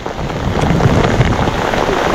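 Steady rain pattering on a surface, a dense even hiss with scattered drops, fairly close and continuous with no voices.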